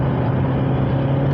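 Engine of a SAAB 9-3 Convertible under acceleration, a steady moderate mechanical drone with a low hum and road noise, with no distinct break for a gear change.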